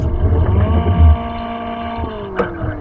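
Modded Lamborghini Huracan engine in the Live for Speed racing game, a steady droning tone that holds and then drops in pitch, with a brief sharp spike near the end.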